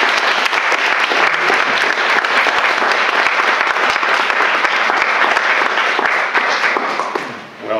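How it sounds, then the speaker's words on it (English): Sustained audience applause following a panel discussion on Standing Rock, a dense, steady wash of clapping that holds loud and even before tapering slightly near the end. "I would have just maybe one more round of applause for everyone."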